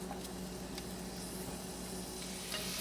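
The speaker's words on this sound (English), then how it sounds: "these onions and shallots and garlic are starting to soften up" Onions, shallots and garlic softening in about two tablespoons of canola oil in a pan, a steady soft sizzle and hiss running continuously at moderate level, with no voices.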